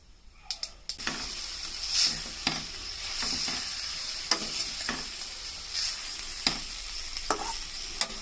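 Tempering spices crackle in hot oil for an amaranth-leaf curry, a soft sizzle punctuated by irregular sharp clicks and scrapes of a spoon against the pan.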